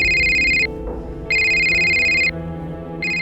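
An office telephone rings in two loud electronic bursts with a short pause between them and a third starting at the end, over a low background murmur.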